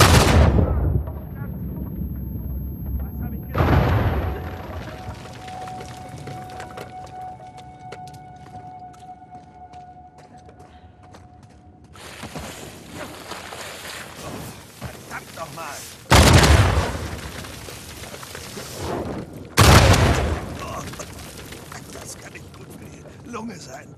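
Explosions in the video game Uncharted 4 boom loudly in a few sharp blasts, spaced seconds apart with rumbling tails and quieter stretches between, while people talk over the gameplay.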